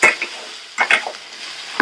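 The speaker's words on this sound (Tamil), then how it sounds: "நல்லா கலந்து விட்டுக்கோங்க." A spoon scrapes and clinks against a pan while masala sundal is stirred, giving a few short bursts close by with light sizzling between them.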